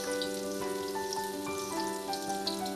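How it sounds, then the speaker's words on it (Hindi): Raw keema kababs sizzle in a pan over a low flame, a soft continuous crackle and spatter beneath steady tonal background sound. "यहाँ पे अब मैं कबाब ऐड कर रही हूँ।"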